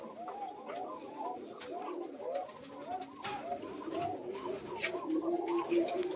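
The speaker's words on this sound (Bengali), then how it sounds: "মূলত কবুতরের ঘরে আসলাম সময় কাটানোর জন্য।" Several pigeons, including Giribaz and Koka breeds, coo continuously inside a pigeon loft, overlapping low throaty calls close by with faint rustling and no speech.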